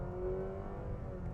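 A 2022 Nissan Sentra in sport mode accelerating at full throttle, a steady droning engine note with a faint rising whine, heard from inside the cabin and fairly quiet.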